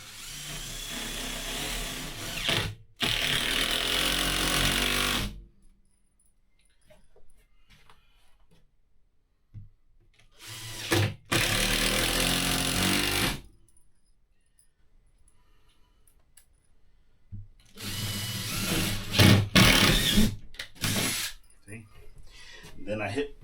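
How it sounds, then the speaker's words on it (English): A power drill drives a screw into a wooden stud while a chicken run frame is built, with three loud whirring bursts of a few seconds each and quieter gaps between. "I just pick it up and I throw a screw in there."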